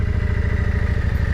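A 1995 Yamaha Virago motorcycle engine idles close by, a loud, even, loping thump with a steady pulsing beat throughout a short stretch, no voices.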